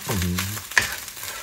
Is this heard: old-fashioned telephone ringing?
no